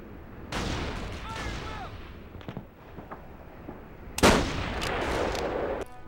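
Enemy gunfire in the World War II shooter Call of Duty 2: Big Red One, with sharp loud bursts and rattling volleys over a steady battlefield din, a heavy blast hitting near the end.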